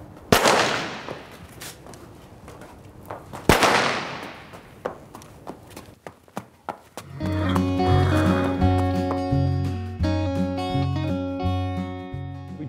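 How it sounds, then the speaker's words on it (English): Sharp cracking cap gun shots ring out during police horse public order training, a couple loud ones then several quicker smaller pops, before music with steady tones takes over. "We start off really just with a very, very small cap gun to start with"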